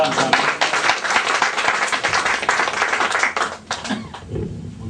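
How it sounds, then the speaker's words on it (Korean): A church congregation claps for two pastors called to the front, steady dense applause filling the room for several seconds before tapering off near the end. "박수로 축복합니다."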